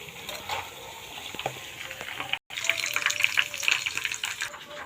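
Coconut oil boiling in a pan, a soft continuous bubbling and sizzling with small crackles and a brief break midway.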